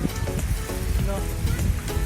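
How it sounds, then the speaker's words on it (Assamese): Light rain falls amid forest in Nambor Wildlife Sanctuary, heard as a steady close wash mixed with wind buffeting and rustle while riding a bicycle; no clear speech. "মিহি মিহিকৈ বৰষুণ পৰি আছে একদম পূৰা হাবিৰ মাজত"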